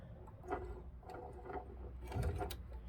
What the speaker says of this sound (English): So I use a white 935 sewing machine